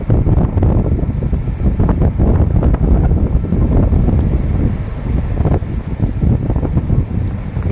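Strong wind roars steadily through a forest of casuarina trees, a loud, continuous rushing gust with no voices.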